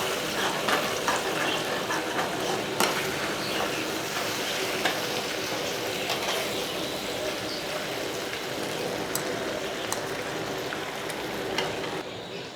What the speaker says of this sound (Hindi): आलू जब तक गोल्डन हो जाए तब तक हमें इसको फ्राई करते रहना है